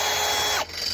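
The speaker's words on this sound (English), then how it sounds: "I'm gonna be drilling through metal." Power drill boring through metal for a post, a steady high-pitched whine that runs near and loud, then drops abruptly as the bit slows or breaks through near the end.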